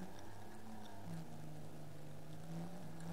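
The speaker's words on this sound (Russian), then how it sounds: "Звук мотора." A car engine in the BeamNG Drive driving game drones steadily at idle or low revs, a constant low humming tone with no other sounds over it.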